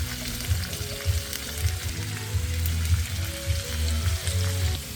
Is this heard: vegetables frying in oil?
yes